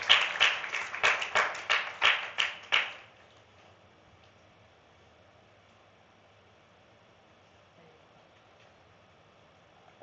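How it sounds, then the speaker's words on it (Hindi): People at a Sunday church gathering clap their hands together for about three seconds in several quick, pulsing bursts, then the room falls almost silent. "हाँ ताली बजाओ"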